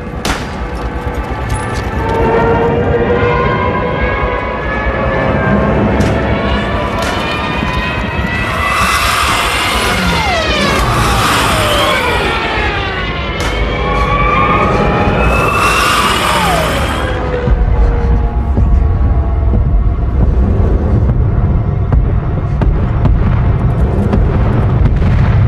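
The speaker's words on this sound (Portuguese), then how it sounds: "Reparem só o som desses caças, reparem só o som desse bombardeio." Fighter planes roar and swoop overhead while bombs burst in a wartime scene from the film Dunkirk, played through cinema surround sound; loud, continuous engine drone with rising and falling passes and heavy booms, no talk.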